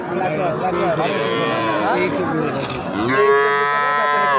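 Cattle moo at a livestock market where young bulls and heifer calves are being sold, with a long overlapping moo followed by a louder, closer one, over busy crowd chatter.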